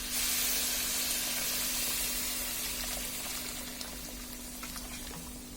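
Hot water poured over rice being fried for a vegetable khichuri sets off a loud, broad steamy sizzle that slowly eases and thins over several seconds, with no talking.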